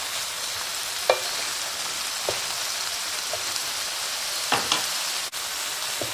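Meatballs frying in a pan over medium-high heat give a steady close sizzle, with a few soft knocks and scrapes as they are stirred for a Persian meatball herb soup.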